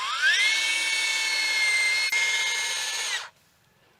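A power drill whines at a high, steady pitch for about three seconds, close and loud, boring into hard red sanders wood, then cuts off abruptly into near silence.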